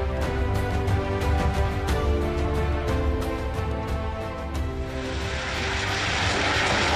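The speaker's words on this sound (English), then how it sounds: "When the Indian Air Force wanted test pilots for the supersonic fighter aircraft," A MiG-21 supersonic fighter aircraft gives a loud, sustained engine roar with tonal whine and rhythmic pulsing, shifting into a broader rushing noise toward the end.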